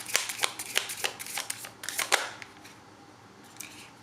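Tarot cards being shuffled by hand, a rapid run of crisp flicks and riffling clicks for about two seconds, close and clear, then quiet room tone with one last soft tap.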